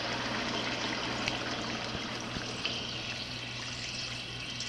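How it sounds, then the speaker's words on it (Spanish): Salted water being poured onto meat cooking in a pot, a steady trickling and gurgling pour with a low hum and a few small clinks, no talking. "Vamos a ponerle el agua con la sal."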